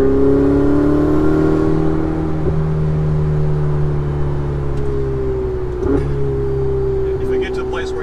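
Ferrari 488 Spider engine on a mountain drive, heard from inside as a loud, steady, droning hum with a layered harmonic tone that dips slightly as it works through the gears, with speech likely present.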